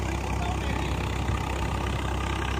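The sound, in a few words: Swaraj 855 tractor running a 9 ft rotavator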